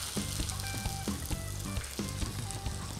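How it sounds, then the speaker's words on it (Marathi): Hot oil tempering with curry leaves is poured over a raw mango and onion chutney, and the tempering sizzles and crackles loudly and continuously with scattered pops and no voices. "आता ही खमंग फोडणी बसली आहे, तर आपण या चटणीवर टाकणार आहे."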